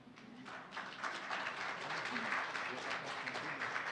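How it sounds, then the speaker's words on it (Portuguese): Audience clapping at a speech-therapy lecture, starting soft then swelling into a steady, moderately quiet round of applause that continues to the end. "palmas para esse rapaz"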